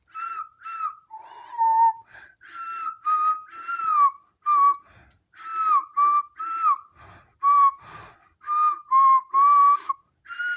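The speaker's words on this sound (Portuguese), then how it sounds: "Tanto pelo assobio do sorveteiro que é assim, ó." An ice cream man whistles a repeating tune in a horror video game, with clear, steady phrases heard alone.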